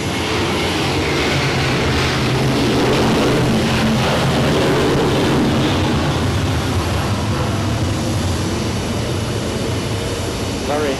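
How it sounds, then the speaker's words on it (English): A heavy aircraft roars at Zurich Airport, a loud, steady, broadband rumble that fills the whole stretch without letting up. "Very heavy, that aircraft."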